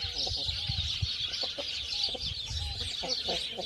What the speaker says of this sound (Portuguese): esse frango aqui, ó, como vocês viram, é um frango preto